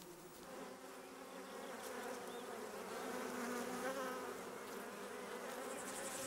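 Honeybees buzz steadily in a dense, continuous drone, many wings humming together at close range with no voices.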